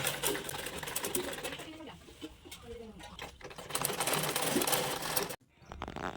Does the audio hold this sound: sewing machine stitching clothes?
yes